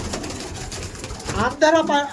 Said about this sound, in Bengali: ফিমেল মাদি পায়রা দেখুন, সমস্ত আন্ধ্রা পায়রা নিন